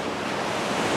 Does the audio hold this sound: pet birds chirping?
no